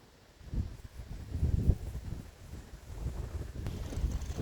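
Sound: strong gusty wind

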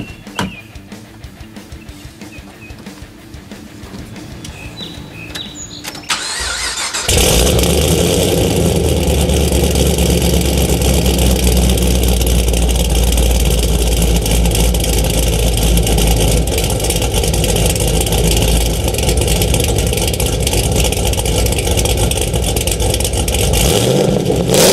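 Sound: 850 hp Camaro ZL1 engine starting and revving

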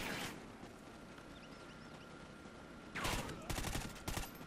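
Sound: suppressed gunfire from video game Call of Duty Ghosts

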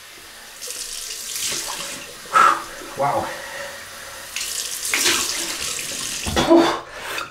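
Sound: cold water running from tap

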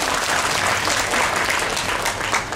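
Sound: applause at opening ceremony

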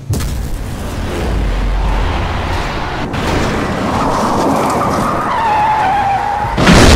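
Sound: car accelerating and skidding in video game GTA V

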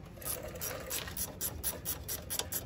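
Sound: ratchet loosening a sway bar end link bolt

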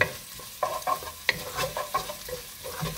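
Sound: garlic sautéing in a pan

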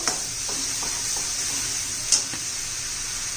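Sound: tomatoes and coconut sautéing in oil

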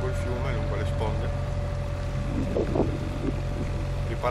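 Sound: wind from a storm on Lake Michigan

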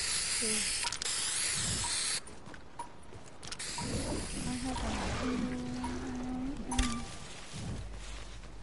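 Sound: spray hissing in a video game

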